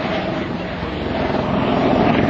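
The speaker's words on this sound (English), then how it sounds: "today's demonstration will involve the Coast Guard's HH-65B or C Dauphin helicopter" A Coast Guard HH-65C Dauphin search and rescue helicopter flies a demonstration at an airshow, giving a steady, loud, close rumbling roar that swells slightly toward the end, with some wind noise.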